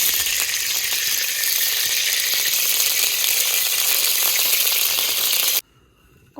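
Refined soybean oil hits a hot kadai and sizzles loudly and steadily for several seconds, then cuts off abruptly into near silence.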